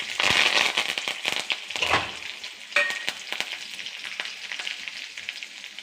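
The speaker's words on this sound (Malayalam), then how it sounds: "അത് മുമ്പ് നമുക്ക് മുളകും കറിവേപ്പിലയും കൂടി ഇടാം" Dried chillies and curry leaves crackle and spit in hot oil in a pan for a Malayalam-style horse gram thoran, with dense close sizzling and sharp pops that ease off slightly toward the end.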